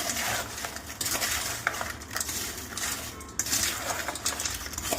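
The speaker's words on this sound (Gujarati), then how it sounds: "લાલ મરચું અને હવે આપણે લીંબુને એડ કરીશું. બધું મિક્સ કરી સર્વ કરીશું." Aloo sev chaat with onion, red chilli and lemon is stirred and tossed in a dish, with a steady run of spoon clinks and scraping against the plate, close and alone.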